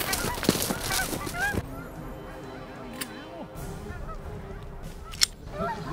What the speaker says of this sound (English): Mike Russell puts on a great goose hunt